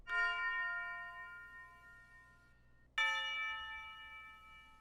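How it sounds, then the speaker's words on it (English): Tubular bell melody programmed in FL Studio, two bright metallic strikes about three seconds apart, each ringing with long shimmering overtones that slowly decay, with no voices. "the tubular bell, whatever you want to call it"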